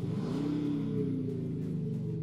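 Mercedes W213 with a Panthera active exhaust set to its most aggressive mode, a steady deep rumbling drone with a raspy edge, held loud and close without pause.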